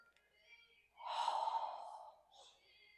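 A person draws one big, deep breath during a yoga session after settling into a pyramid pose, a brief soft inhale followed by a fuller, breathy exhale up close, with no talking.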